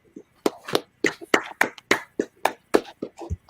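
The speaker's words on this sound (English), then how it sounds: "Clap it up." A small class claps in an uneven, scattered rhythm, with a dozen or so distinct close hand claps from a few people, sparse and crisp against a quiet room.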